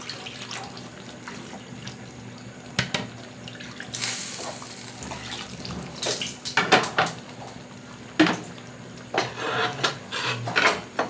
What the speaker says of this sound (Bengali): এখানে আমি আরেকটু জল দিয়ে দেবো।